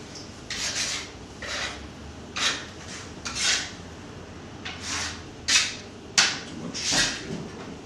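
Spatula scraping and working Belgian chocolate on a surface, about eight to nine distinct rasping strokes in an uneven rhythm, close and fairly loud.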